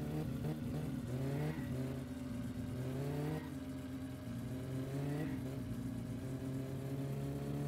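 Tuned Satsuma car engine in My Summer Car with a turbo setup, droning at a steady moderate level with several rising revs and gear changes, heard continuously without speech.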